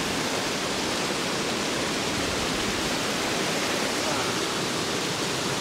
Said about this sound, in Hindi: ऐसा फील हो रहा है यहाँ ऊपर से जैसे पत्थर के अंदर से पानी निकल रहा हो